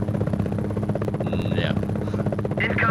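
A Cobra attack helicopter in the Gunship flight game drones steadily, a constant buzzing rotor hum with brief radio-like chirps over it, continuous and moderately loud throughout.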